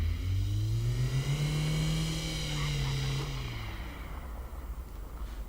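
Simulated car engine in the City Car Driving game revving up, rising to a strained high pitch, then dropping away as it eases off, loud and steady with a tonal drone.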